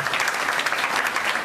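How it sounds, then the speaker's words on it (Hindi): Steady, dense applause from a crowd, clapping loudly and evenly throughout without pause. "आप इनके परिवार के लिए भी जोरदार ताली बजाओ"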